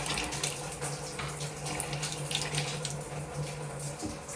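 Water runs through a PEX sink supply line, a steady hissing rush with a low tonal hum underneath, close and continuous for a few seconds.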